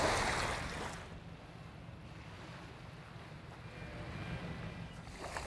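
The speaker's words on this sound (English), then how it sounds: "So we listen to these gentle waves lapping." Gentle sea waves lapping at the seaside, a soft continuous wash of surf mixed with wind rumble against the microphone, swelling slightly at the start and end, heard alone without voices.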